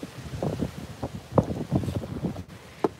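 Strong outdoor wind buffets the microphone in rough irregular gusts, loud and close, with rumbling thumps throughout.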